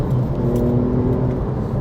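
The engine of a 2005 Porsche 911 997 Carrera 2S, a loud, close, steady low rumble and whir from the car's cabin, holding an even drone throughout the short stretch.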